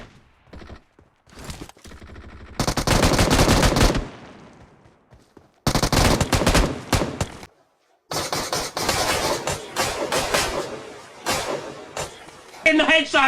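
Gunfire in the battle-royale game PUBG: several loud bursts of rapid shots, with bangs separated by short silences, heard alongside a person talking.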